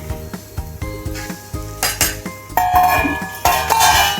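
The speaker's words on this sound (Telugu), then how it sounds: "ఇప్పుడు బీరకాయ ముక్కలు వేసేసుకుందాం" Ridge gourd pieces go into a pan of fried onions, with a run of clinking, scraping metal-on-pan knocks and dish clatter, close and fairly loud, growing busier toward the end.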